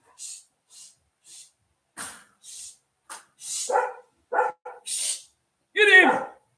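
A dog barks in short separate bursts, several barks and yips spread through the clip, fairly close, with no talk over them.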